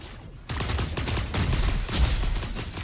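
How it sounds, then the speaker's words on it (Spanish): Rapid gunfire from a mecha's weapon in the Super Mecha Champions video game, a dense continuous burst of shots starting abruptly after a brief pause and running to the end. "Mira la velocidad a la que disparo ahora."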